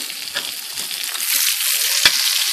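Eggs frying in a cast iron pan for scrambled eggs, a steady close hiss and sizzle that grows slightly louder, with a brief sharp tap of a utensil near the end.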